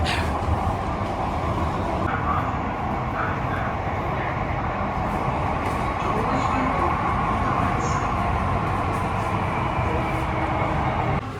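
A metro train ride heading toward Girgaon, heard as a steady, loud rumble of the moving carriage with constant wheel and motor drone throughout, without clear speech.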